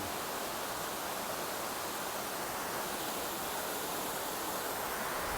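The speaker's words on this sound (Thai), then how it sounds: "นี่เขาจะเป็นน้ำตกประมาณนี้นะ" Waterfall beside a temple set in the water, a loud, unbroken broadband rush of falling water that holds steady throughout with no voices.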